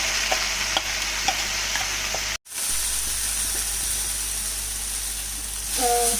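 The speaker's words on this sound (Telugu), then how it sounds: "గ్రేవీ వేసాక పచ్చిదనం పోయేంత వరకు ఆయిల్లో ఫ్రై చేస్తూ ఉండాలి" Onion paste gravy frying in oil for egg masala curry, a dense steady hiss of sizzling close by with light spatula scrapes, briefly cut to silence partway through, then resuming with a faint voice near the end.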